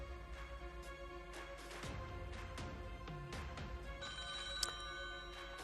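Telephone ringing on the set of a French game show, repeated rings in a steady pattern standing out clearly over a busy studio background with no talk.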